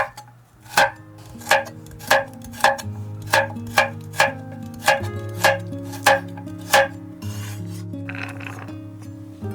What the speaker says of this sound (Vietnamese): Cà rốt thì mình cũng cắt hạt lựu luôn nè